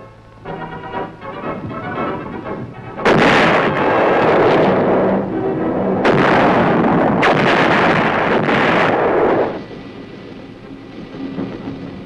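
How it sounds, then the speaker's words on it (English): Booming reports from 175 mm guns firing artillery shells at Aberdeen, heavy blasts rolling in at about three and six seconds and sustaining a loud rumble that fades after nine seconds. "the 175s reliably deliver shells with pinpoint accuracy on targets over 10 miles away"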